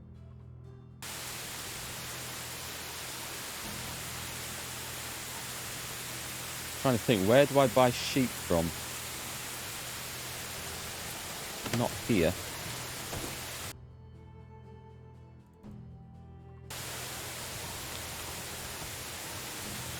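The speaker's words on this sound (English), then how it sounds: "that rain is" Loud, steady hiss of rain in Medieval Dynasty fills the whole stretch, broken by a couple of brief gaps, with someone talking briefly over it.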